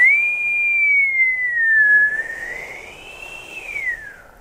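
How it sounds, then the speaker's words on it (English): A whistling wind sound effect plays as one thin, sustained tone that slowly sinks and then rises again over a soft background hiss, with no talking. "the whistling wind"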